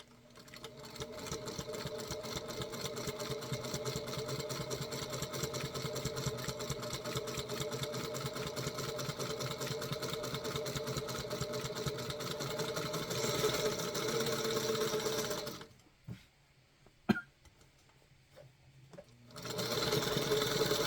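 A sewing machine runs in a long steady stitching burst while rag quilt blocks are joined, a close, even mechanical whir, then stops with a few light clicks before starting up again.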